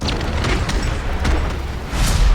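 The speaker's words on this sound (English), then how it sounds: "These are zombies that will run real quick and explode in contact." A Boom Schreier zombie in Call of Duty: Vanguard bursts in a loud, dense explosion, a roaring low rumble with crackling debris and a second blast swelling near the end.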